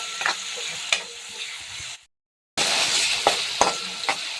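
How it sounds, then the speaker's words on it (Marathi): Finely chopped onion fries in a pan until browned, a steady sizzle broken by a few clinks and stirs, with a brief silent gap midway. "कांदा छान असा पाच सात मिनटं लाल रंग येईपर्यंत घ्यायचं घ्यायचा आहे"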